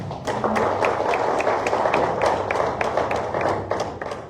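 Audience at the Jacmel carnival launch applauding, a dense, steady wash of many hands clapping with sharp individual claps standing out, loud and close throughout.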